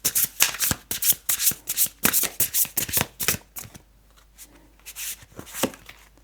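Tarot cards shuffled by hand in a run of quick, crisp riffling bursts, close and fairly loud, then a lighter patter of card handling and taps after a brief lull.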